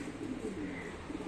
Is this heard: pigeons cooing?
yes